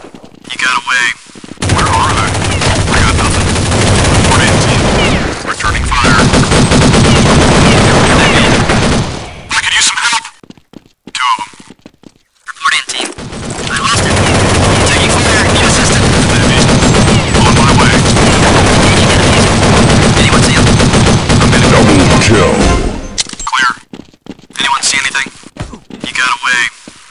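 Sustained automatic gunfire in the video game Counter Strike Nexon: Zombies, loud and continuous across two long volleys, broken by short gaps and scattered single shots, with game voice callouts heard in between.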